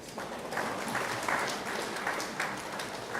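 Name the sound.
audience applause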